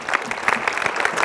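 Brief audience applause in a university lecture hall, a short burst of crowd clapping with a steady, even texture, heard on its own.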